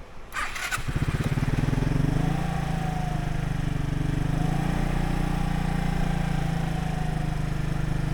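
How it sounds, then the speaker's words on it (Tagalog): A cold motorcycle engine starts and settles into a steady warm-up idle, its loud, close rumble chugging evenly with no voices. "painitin lang natin itong motor"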